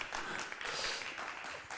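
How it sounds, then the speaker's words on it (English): An audience applauds at a Media Art Festival 2020 theme night, a steady wash of clapping that stays fairly even and moderately loud throughout the short stretch. "Give them an applause for their end result"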